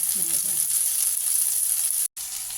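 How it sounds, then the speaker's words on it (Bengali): Onion fries in a pan with a bright, steady sizzle and crackle, loud and close, broken by a momentary gap near the end before the hiss resumes; a faint voice or stir sits low beneath it early on. "পেঁয়াজটা ভাজা হয়ে গেছিলো, তাই এর মধ্যে আদা বাটা, রসুন বাটা আর একটু পেঁয়াজ বাটা দিয়ে দিয়েছি"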